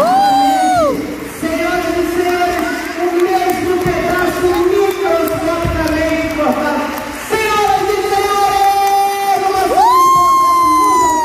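A lively live audience at a teleportation magic show cheers and shouts continuously, loud and close, with whoops rising over the roar.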